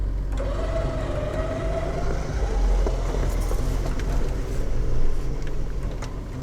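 A car engine pulls hard through a corner, a steady loud drone of revving and road rumble that swells slightly near the end, with no talk over it.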